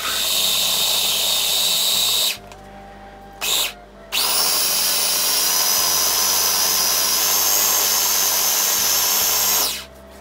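Electric spice grinder whirring loudly as it pulverizes dry spices into a paste without water for sate padang, running in bursts with brief pauses and restarts, close and alone without voices.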